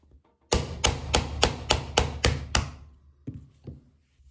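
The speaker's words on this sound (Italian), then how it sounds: "Perché è necessario battere con martelletto?" A small hammer taps trigger pins into place on an E.T.S. II electronic trigger system, giving eight sharp, evenly spaced metallic taps close up, then two softer taps after a brief pause.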